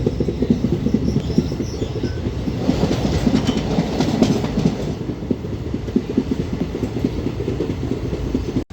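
A train pulls into Madgaon railway station in South Goa on a trip from Amravati, with a loud, continuous rumble and rhythmic clickety-clack of wheels close by.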